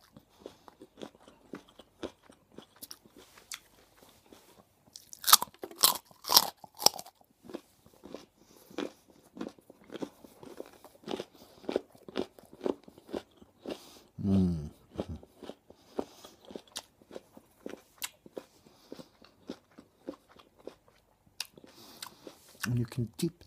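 Raw carrot bitten and chewed close up, giving bursts of crisp crunching with quieter chewing between bites and a loud crunch near the middle.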